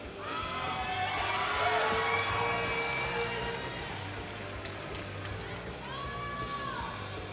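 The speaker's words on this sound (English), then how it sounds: "we hearing some noise in the crowd from Matt Slingerland" A crowd cheers and yells at a STIHL Timbersports championship, a fairly distant swell of shouting and whoops that rises, eases off, then picks up again.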